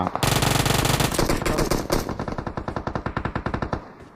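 Gunfire shot to welcome the new year, a loud, close burst of rapid automatic shots in a fast rattling rhythm that continues for about four seconds before slowing slightly and stopping.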